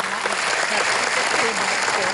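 An audience at the closing of a Perindo party national working meeting applauds warmly, a continuous, fairly close roll of clapping with some voices beneath it.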